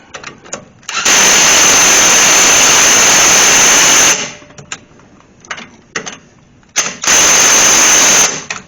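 An electric impact wrench tightens a rear brake bolt on a Dodge Ram 2500/3500 dually, with two loud sustained whirring runs of about three and one-and-a-half seconds, separated by quieter clicks and handling noises.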